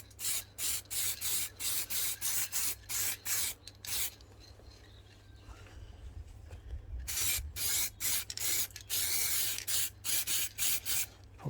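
Metallic red base-coat paint sprayed onto a resin-printed Iron Man figure in short close bursts, several quick rhythmic puffs, a pause with quieter handling, then another run of bursts, with no talking.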